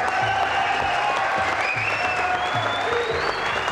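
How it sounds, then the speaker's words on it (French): A French TV studio audience applauds as a guest comes on stage, a loud continuous wash of clapping with rhythmic music thumping underneath. "Applaudissements."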